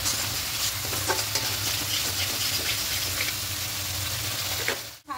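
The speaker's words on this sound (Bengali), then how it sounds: "এবার খুব ভালো করে সব কিছু কষিয়ে নেব" Tilapia and spice paste for a yogurt curry frying in a pan, a steady close sizzle with stirring scrapes, then a brief bump at the end.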